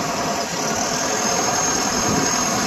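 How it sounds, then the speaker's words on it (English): A John Deere 6230 four-wheel-drive cab tractor with a power quad transmission idles steadily, a constant close engine drone with no other sounds. "Tractor starts and runs just like it should."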